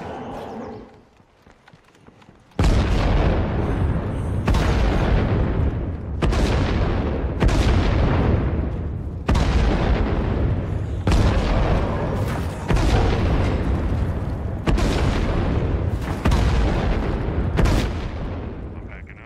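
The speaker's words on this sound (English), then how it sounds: "You aim that mortar" Mortar fire in State of Decay 2: after a brief quiet start, heavy booming blasts go off in a steady series roughly every two seconds, loud and close, each one trailing off.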